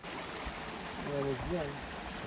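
A stream of water flowing at a campsite makes a steady, soft broadband rush throughout, with a brief voice murmuring over it midway.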